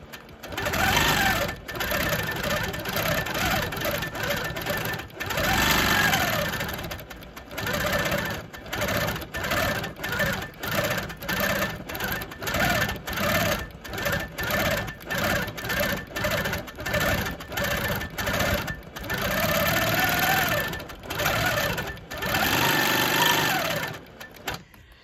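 An embroidery sewing machine stitches out Christmas pudding designs in rapid mechanical bursts of clattering needle strokes. Short pauses break up the runs, and the sound is close and fairly loud.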